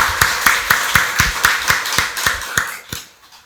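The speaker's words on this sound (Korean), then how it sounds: "박수로 하나님께 영광 돌리겠습니다." Rhythmic congregational clapping during a Sunday church worship service, about a dozen sharp, evenly spaced claps in unison, loud and close, slowing and fading out at the end.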